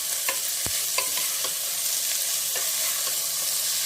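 Tomato frying with bottle gourd curry in a pan gives a soft, steady sizzle, broken by the light clinks and scrapes of a spoon stirring close by.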